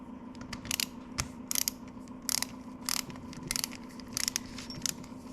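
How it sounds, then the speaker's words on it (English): A torque wrench with a 7/16 socket tightens the connecting rod bolts on a Kohler K91 engine, giving short bursts of sharp ratchet clicks, repeated several times at a steady pace, close and fairly quiet over a faint hum. "I got my torque wrench set already. Grab a 7/16 socket here."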